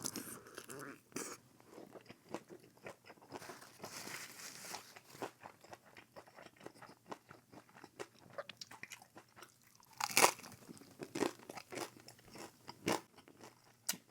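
Close, crisp biting and crunching of a fried Filipino Ilocos empanada with vinegar sauce, with repeated crackly bites and chewing, one loud crunchy burst near the middle, and no talking.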